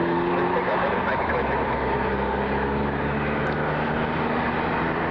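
An Embraer E175 regional jet at an airport, a steady loud engine roar with a low hum throughout, heard from nearby with a voice talking over it.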